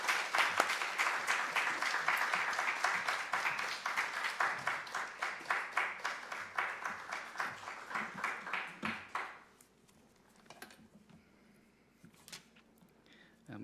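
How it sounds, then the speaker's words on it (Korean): A church congregation at a Wednesday worship gathering claps in a strong, rhythmic unison beat for around nine seconds, the claps gradually thinning and ending, followed by quiet room sound with faint scattered noises. "크게 한번 박수하겠습니다."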